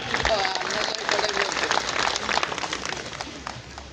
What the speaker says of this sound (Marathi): अण्णांसाठी जोरदार टाळी वाजवूया